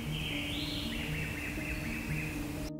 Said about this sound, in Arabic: وده صوت الغابة